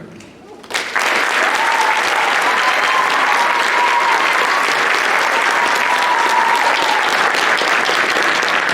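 A large audience at a high school spring awards concert bursts into loud, sustained applause that swells in quickly and holds steady, dense and close, with faint voices mixed in.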